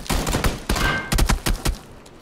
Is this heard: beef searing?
no